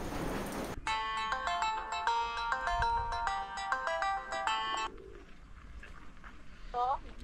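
A phone ringtone plays for an incoming call in a home in Nepal, a repeating electronic melody ringing loudly for several seconds before it cuts off, with low room noise and a few faint sounds after.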